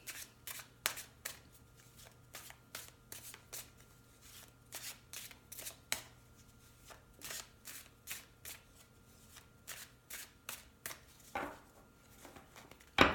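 Mystic Moon Oracle cards are handled and shuffled up close, giving quiet, irregular riffling and tapping with brief pauses and a louder snap near the end.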